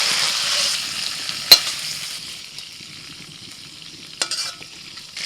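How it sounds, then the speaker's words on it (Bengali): Prawns frying in hot oil are stirred and lifted out, a steady close sizzle with a louder clatter of the utensil near the start and another burst of scraping later. "চিংড়ি মাছ ভাজা হয়ে গেছে, এবার তুলে নিচ্ছি।"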